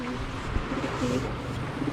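Pigeons cooing in a rain-soaked loft, low soft coos repeating close by over a steady patter of rain and background noise.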